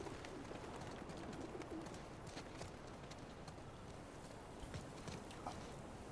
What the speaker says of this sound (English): Pigeons.